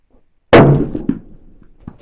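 A single sharp rifle shot on an outdoor range aimed at a target around 340 to 350 yards away, loud and close, followed by a fading echo and a faint distant knock.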